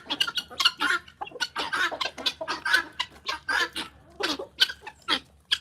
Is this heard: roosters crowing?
yes